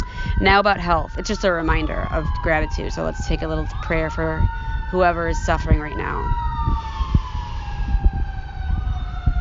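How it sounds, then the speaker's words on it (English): Emergency vehicle sirens wail in the distance behind someone speaking indoors, their rising and falling tones sweeping repeatedly for several seconds before fading under his steady voice. "Sorry for the sirens in the back."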